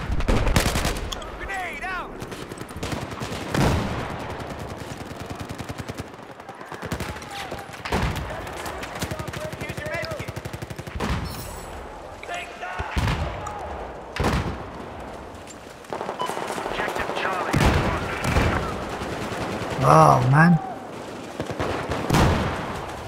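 Bursts of L85 rifle fire in Battlefield 4, with repeated rapid shots and scattered distant gunfire spread across the scene, while players chat over the action.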